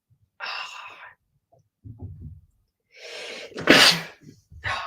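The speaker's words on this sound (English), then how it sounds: "Oh God, sneeze." A single loud sneeze bursts out near the mic, preceded by a few quiet breaths and a sharp inhale, with a soft sniff after.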